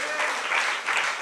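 Brief, dense applause from a church congregation clapping for God during a sermon, a short continuous wash of many hands.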